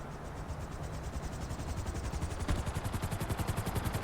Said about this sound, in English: Helicopter's really not shooting at me right now anyway